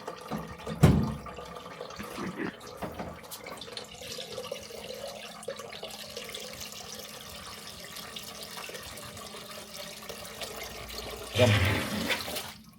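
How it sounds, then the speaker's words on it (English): Water draining from a clogged apartment kitchen sink, a continuous gurgling rush with sloshing, louder glugs near the start and end, close by and without talk. "Might as well just let it drain now."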